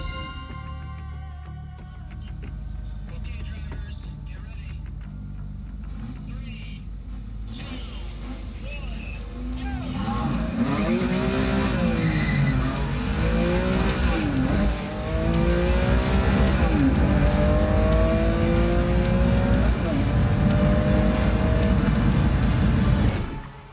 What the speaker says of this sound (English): the Ferrari Enzo against the F40.